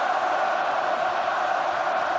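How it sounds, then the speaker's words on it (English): Rugby stadium crowd at a Rugby World Cup 2023 match between South Africa and Ireland, making a dense, steady roar of cheering that stays loud without a break. "The cheers continue."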